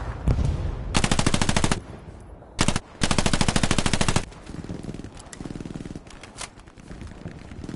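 Machine gun fire in the World War II shooter Hell Let Loose, fired from a house overlooking a field, long loud sustained bursts separated by brief pauses, followed by quieter scattered shots and distant gunfire.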